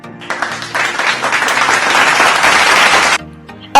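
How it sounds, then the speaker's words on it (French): An audience breaks into applause at a film review session, a thick burst of clapping that swells and holds for about three seconds before stopping sharply. "On l'applaudit bien fort."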